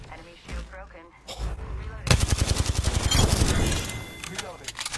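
Rapid automatic gunfire in the Halo Infinite video game rattles out as a dense burst of shots in the second half, with a game voice and player talk audible beforehand.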